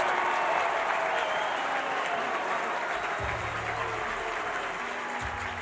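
A baseball crowd at a Georgia Tech versus Oklahoma game applauds and cheers after a leadoff double, a dense, steady roar of clapping and voices that carries on for several seconds.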